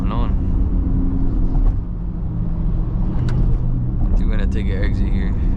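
Steady low engine rumble through the M exhaust, heard from inside a moving BMW X3 M in rush-hour traffic, continuous throughout, with voices talking intermittently over it.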